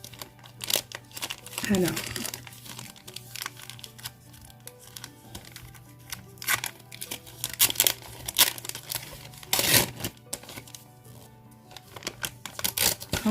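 A wrapped scrapbooking package being opened, with bursts of crinkling and tearing wrapper, loudest near the start and middle, under intermittent talk in French.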